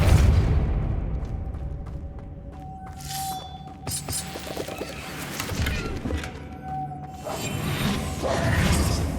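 Depulso force spell in Hogwarts Legacy unleashes whooshing bursts with shattering, crackling impacts, a mix of rushing swells and sharp clatter with a thin ringing tone over several seconds.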